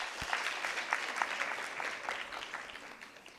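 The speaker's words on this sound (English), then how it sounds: "a round of applause for them" A school debate audience applauds Mpesa Foundation Academy after its score is announced, a moderate round of clapping that stays steady and slowly fades over a few seconds.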